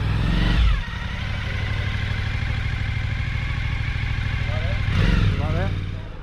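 A motorcycle engine runs steadily at low revs while the bike rolls backwards, with a brief rev and clatter near the start and again near the end, under a voice.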